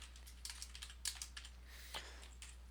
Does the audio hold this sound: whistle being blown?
no